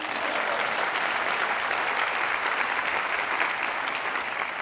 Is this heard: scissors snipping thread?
no